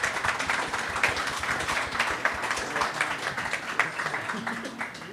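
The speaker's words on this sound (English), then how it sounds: "Everyone give it a round of applause for all our participants." An audience at a governance event held at a golf venue claps in a round of applause, a dense patter of many hands at moderate volume, with some voices mixed in.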